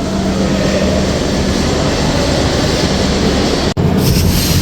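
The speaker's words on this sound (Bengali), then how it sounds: "নির্ধারিত সময় ঠিক রাত আটটায় ট্রেনটি ঢাকা কমলাপুর রেল স্টেশন ছেড়ে যাচ্ছে" Drutojan Express train pulling out of Dhaka Kamalapur station at night, a loud steady rumble of rolling carriages with a brief dropout near the end and no talk.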